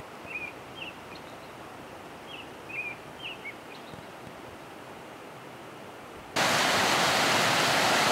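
Steady broadband rush of water flowing into a small mountain lake or reservoir at its inlet on a cold, icy morning, continuous and moderately close, with a few faint bird chirps early on and a louder surge of water noise toward the end.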